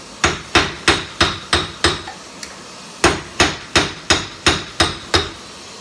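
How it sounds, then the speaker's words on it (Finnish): A smaller hammer strikes hot metal while forging a knife, ringing out in two quick series of about seven sharp, evenly spaced blows separated by a short pause, close and loud with no talking. "Kokeillaan vähän pienemmällä vasaralla."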